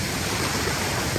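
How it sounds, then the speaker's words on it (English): A waterfall beside a sandbank at Tasik Kenyir gives a steady, dense broadband roar of falling water, close and continuous with no gaps or voices. "then you can see we are just beside the waterfall"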